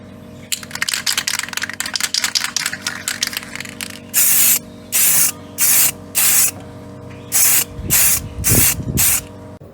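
Aerosol spray paint laying a second coat on a Nintendo DS shell: rapid light tapping and rattling at first, then a run of evenly spaced, loud, close hissing bursts, each about a second long.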